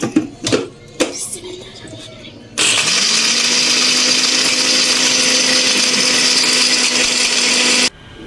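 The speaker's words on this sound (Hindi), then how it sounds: "मैंने सारी फटकरी को जो है ना ग्राइंड कर लिया था" An electric grinder whirs at a loud, steady pitch for several seconds while grinding alum (phitkari) for homemade deodorant, cutting off abruptly after a few short knocks and handling sounds beforehand.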